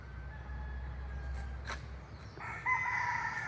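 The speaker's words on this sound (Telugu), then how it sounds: "బ్యాక్గ్రౌండ్లో మీరు కోళ్ళు అరుస్తున్నాయి చూస్తున్నారు కదా" A rooster crows twice from a short distance over a low outdoor hum in a rudraksha forest in Hawaii, the second call louder and more drawn out.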